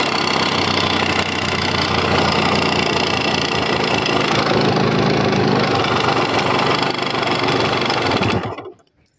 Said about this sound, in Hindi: इंजन से बहुत गंदा तरीके का साउंड आ रहा है, मैं आपको दिखाता हूँ, ये देखो अभी साउंड सुन लो हेड का